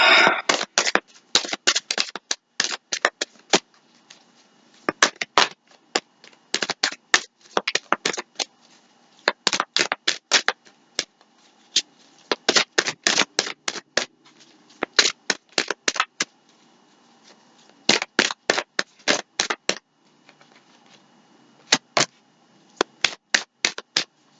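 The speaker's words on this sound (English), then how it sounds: "we're going to shuffle" Tarot cards are shuffled by hand in quick crisp bursts of riffling and slapping, repeated in rhythmic clusters with brief pauses between them over about twenty seconds, close and clear with no talking.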